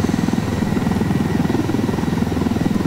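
A helicopter flying in the video game Ghost Recon Wildlands, its rotor throbbing in a loud, steady, rapid chop with a constant engine drone underneath, close and continuous with no talking.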